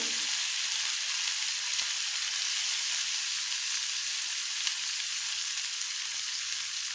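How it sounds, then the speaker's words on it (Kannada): Green chili paste hits hot oil in a pan with a loud, continuous sizzle that holds steady and close throughout, no voices over it. "ಈಗ ನಾನು ಹಸಿಮೆಣಸಿಕಾಯಿ ಪೇಸ್ಟ್ ಏನಿತ್ತಲ್ಲ ಅದನ್ನು ಹಾಕ್ತಾ ಇದ್ದೀನಿ"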